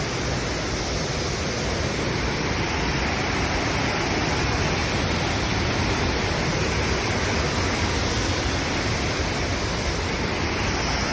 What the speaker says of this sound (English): Wow, guys, look at the waterfall.